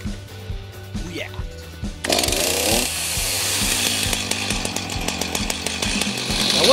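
A chainsaw idles with a steady putter, then revs to a loud, sustained whine as it cuts big logs into firewood in southern Indiana, the engine pitch wavering as it bites.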